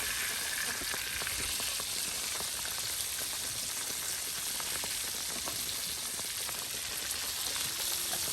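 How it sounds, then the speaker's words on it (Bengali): Fish frying in a pan, shown as a steady soft crackling sizzle with fine pops, fairly faint and continuous for the whole stretch, no one talking. "কত সুন্দর মাছ ভাজা করে নেওয়া হচ্ছে"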